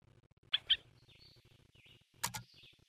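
Two quick bright chirps near the start, then another short double chirp later, from a bird in the pixel-art game A Bird Story, heard alone over a faint low background.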